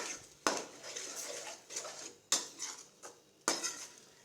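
Egg and ridge gourd stirred in a pan with a metal spoon, giving a few sharp scrapes and clinks against the pan spaced a second or so apart, close and fairly quiet.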